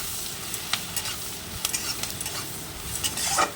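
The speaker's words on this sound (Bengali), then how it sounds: "একটা গোটা পেঁয়াজকে কুচি কুচি করে কেটে রেখেছিলাম আর তারপর সেটা ভেজে নিচ্ছি।" Finely chopped onion fries in a pan, a steady soft sizzle broken by quick scraping stirs and light utensil taps close up, with no voices.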